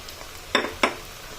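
Tomatoes drop into hot oil with fried onions for a Bengali tangra fish curry, giving two quick, quiet sizzling scrapes close together against a low background hiss.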